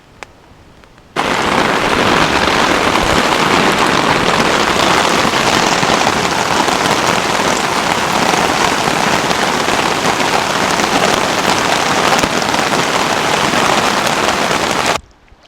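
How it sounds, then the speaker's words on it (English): Heavy downpour during a nighttime thunderstorm at a wilderness lake campsite, a dense, loud, unbroken hiss of rain beginning abruptly and pounding steadily before cutting off near the end. "The storm came in, like I showed you guys. It poured rain."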